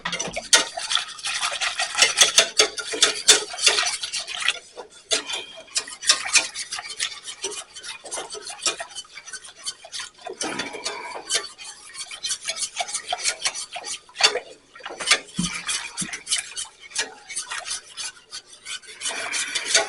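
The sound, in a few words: whisking clumps out of cream of asparagus soup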